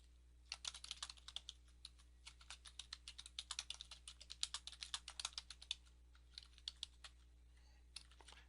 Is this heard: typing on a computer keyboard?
yes